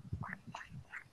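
A human voice imitates a duck, giving three short nasal quacks spaced evenly over about a second, close and fairly quiet.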